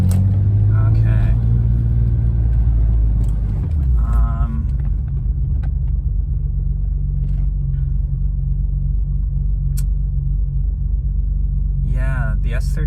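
A 1991 BMW M5's S38 engine idles with an uneven lope, a loud, close, deep rumble that holds steady after a brief voice at the start.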